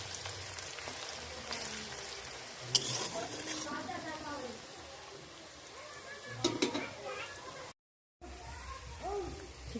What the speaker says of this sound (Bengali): পেঁয়াজটা ভালো করে লাল লাল করে ভেজে নেব।